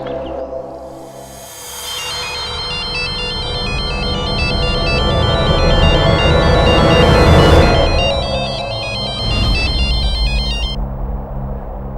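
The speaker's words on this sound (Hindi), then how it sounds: "मैं सुबह से मेघना को फोन लगा रही हूँ लेकिन वो फोन ही नहीं उठा रही" A telephone ringtone plays a repeating electronic melody over a television drama's background music, loud and steady throughout with no talking.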